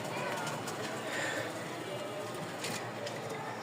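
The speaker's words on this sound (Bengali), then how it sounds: "একজোড়া লোটন আছে মাশাআল্লাহ, রানিং" A pair of Lotan pigeons coos softly, the low murmuring calls half buried in a constant hiss of room noise with faint shuffling.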